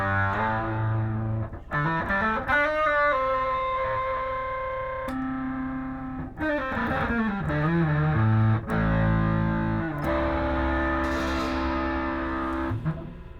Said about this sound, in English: firstly, we have our fuzz